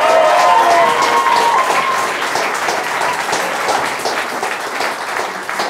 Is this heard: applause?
yes